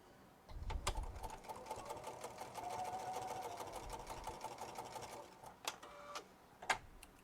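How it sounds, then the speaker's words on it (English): A sewing machine runs a steady stitching seam along the edge of a purse strap, a continuous mechanical whir lasting several seconds, with a few sharp clicks and knocks near the end. "I'm stitching right along the edge"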